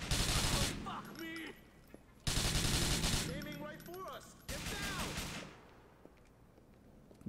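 Bursts of MP5-style submachine gun fire in Grand Theft Auto IV, three loud close volleys of rapid shots with short gaps between them, each ending in a fading echo, a voice speaking among the shots.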